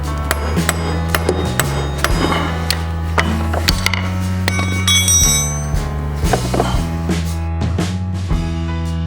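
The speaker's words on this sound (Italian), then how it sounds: "potete dare un bel colpo di martello su questo perno da 19, in questo modo" Sharp metallic hammer strikes on a 19 mm steel pin while replacing a scooter stator ring out one after another at an uneven pace, loud and close, over a steady droning background.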